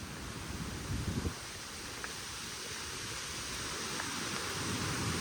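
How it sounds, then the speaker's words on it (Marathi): Steady broadband hiss of heavy rain pouring down, with a brief rustling burst near the start and constant wash throughout. "मित्रांनो अचानक मुसळधार पाऊस"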